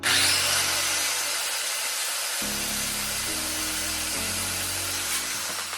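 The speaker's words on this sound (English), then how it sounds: "Let's line up our circular saw and cut right on that line." A circular saw rips through a wooden board for floating shelves, a loud sustained whine with shifting motor tones as the blade bites and cuts steadily, no talk over it.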